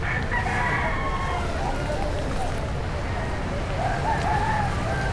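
Chickens and roosters crow and cluck at a pet market during heavy rain, several overlapping calls rising above a constant wash of rain and crowd noise, with people talking nearby.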